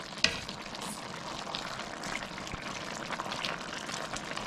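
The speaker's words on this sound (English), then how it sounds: "Tomatoes, potatoes boiling." A pot of eggplant, tomatoes and potatoes bubbling on the stove, a steady faint sizzling and simmering hiss that runs continuously without pause.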